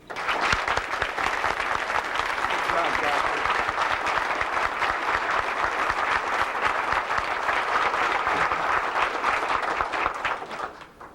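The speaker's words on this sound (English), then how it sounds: "if you joined me in a round of applause for the person most responsible for tonight's program, Mr. Jim Heath." A long, sustained round of applause fills a banquet hall at a Republican Party dinner, dense and even for about ten seconds before tapering off at the end.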